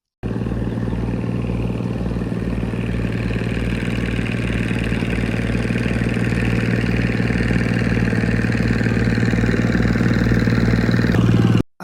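A motor boat engine runs steadily on a lake, a continuous mid-pitched drone with a rhythmic clattering throb, loud and close throughout with no speech.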